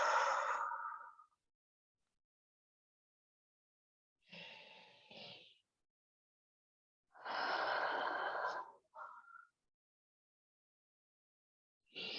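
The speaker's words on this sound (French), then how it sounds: "inspire par le nez. Expire lentement par la bouche." Slow exhalations through the mouth during a calm yin yoga relaxation, heard as three long, soft, breathy releases separated by stretches of silence, close and alone.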